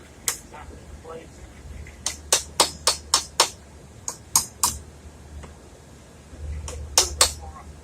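A door hinge is tapped and snapped into a tight mortise with a rapid run of crisp close knocks, then a few scattered taps and a last quick pair, over low background noise.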